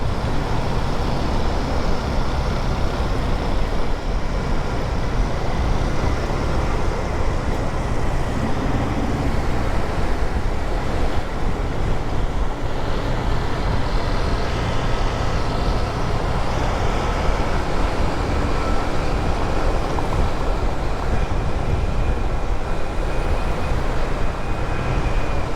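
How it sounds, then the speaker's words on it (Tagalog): Heavy night traffic on EDSA near Ortigas makes a dense, steady roar of many vehicles, continuous and unbroken throughout with no clear single pass-by. "Traffic pa rin. Grabe tong EDSA na to, gabing gabi na."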